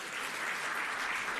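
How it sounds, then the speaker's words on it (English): Audience applause at a government programme launch event, a dense uninterrupted wash of many hands clapping, steady and even throughout the short stretch. "Please give him a round of applause."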